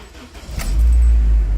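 A Honda Civic with 159,000 miles and a manual clutch starts up, a short crank and key rattle giving way to a loud, steady low idle that carries on alone and up close.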